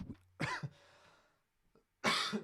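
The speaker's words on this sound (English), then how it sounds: "first thing I do is cough like a madman" A few sharp, close coughs: a pair at the start, then a brief pause before another harsh cough.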